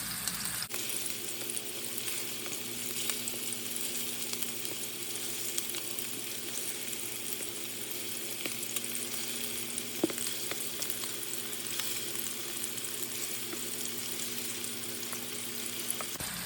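Swedish meatballs frying in a pan over medium-high heat, a loud continuous crackling sizzle that holds steady throughout, with a faint low hum and an occasional soft knock.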